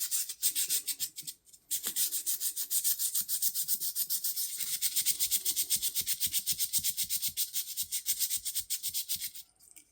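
Liners of a vintage Hammer Brand two-blade jack knife rubbed down by hand, close rhythmic rasping back-and-forth strokes in quick succession, pausing briefly early on and then continuing steadily without talk.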